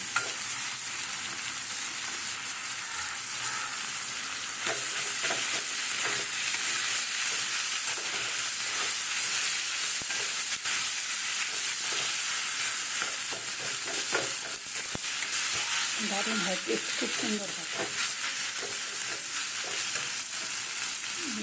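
Potatoes frying in a pan while being stirred, a loud continuous sizzle with frequent scraping strokes up close; a voice talks briefly near the end.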